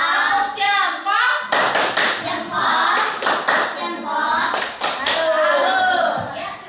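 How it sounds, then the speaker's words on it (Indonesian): Schoolchildren in a fourth-grade class clap together in a thumb-clap routine, a series of sharp claps spread through the stretch and mixed with their chanting voices. "Tepuk jempol."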